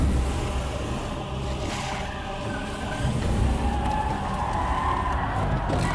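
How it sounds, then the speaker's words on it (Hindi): Several cars approaching from behind on a road: a continuous engine drone with rising tones and tire noise that builds slightly as they near, with no voices. "वासु देखो पीछे एक साथ कितनी गाड़ियां आ रही हैं।"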